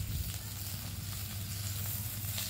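Potatoes added to a pan of hot oil with onion, green chili and popped mustard seeds sizzle and fry steadily up close, a continuous crackling hiss with no voices.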